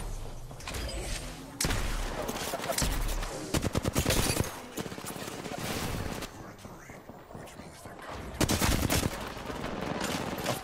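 Gunfire from an Apex Legends style shooter game, with bursts of rapid automatic fire and single shots at varying loudness, mixed with game sounds and a voice talking throughout.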